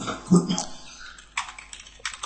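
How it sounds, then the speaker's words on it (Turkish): Light clicking keystrokes on a computer keyboard as a web address is typed, a few quick close taps in a quiet room. "google.com yazıyorum"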